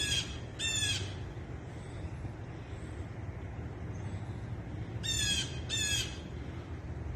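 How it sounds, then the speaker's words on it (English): A small bird in a tree gives loud, harsh squawks in two pairs, one at the start and one near the end, over a steady outdoor wind and traffic hum. "The little bird makes a lot of noise."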